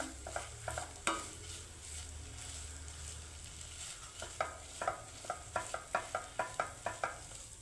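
A salted vegetable sandwich filling with boiled potatoes is mixed in a pan: a soft sizzle under close spatula scrapes and taps that become a quick, regular series of knocks in the second half, no talking.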